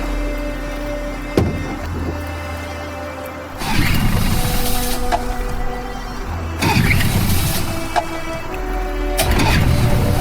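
A boat engine in Detroit: Become Human cranks and catches in repeated bursts, rough mechanical rumbles rising in loudness. Each burst is separated by quieter idle hum and clicks.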